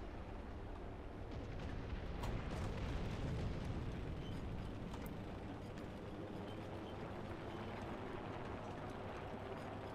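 A bomb explodes in the War Thunder tank game, with a deep rumbling boom that rolls into a dense, continuous roar of battle noise.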